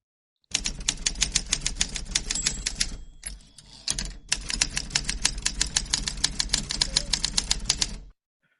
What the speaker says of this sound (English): hit the typewriter and let's move on